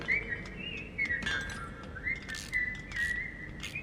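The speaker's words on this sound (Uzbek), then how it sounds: "U gapira olmaydi, lekin hushtak chalishni biladi." The Newt character in The Baby in Yellow video game whistles a repeated short, bird-like melodic phrase, clear and fairly close over faint background game noise.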